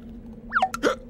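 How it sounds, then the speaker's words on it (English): A cartoon character hiccups with short squeaky upward-sliding yelps, two or three quick bursts close and clear within about a second, no talk. "And shake those hiccups loose."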